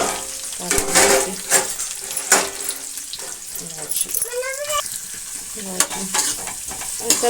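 Chopped onion and capsicum sizzle loudly in hot oil with cumin seeds for veg manchurian, with bursts of crackling and spoon scrapes as the pan is stirred, and a voice speaking intermittently nearby.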